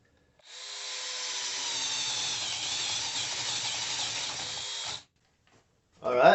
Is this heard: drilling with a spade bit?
yes